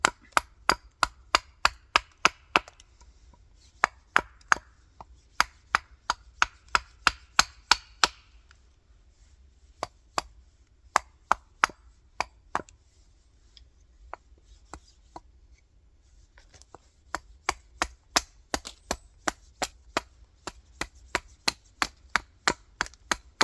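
Axe chopping wood while carving a pocket spoon in a forest, dozens of sharp, close strikes in steady rhythmic bursts with brief pauses between runs and no talking.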